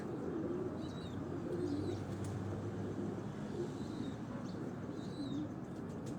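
Pigeons coo softly on a rooftop loft, a low rolling murmur that runs continuously, with a few faint chirps scattered above it and steady outdoor ambience underneath.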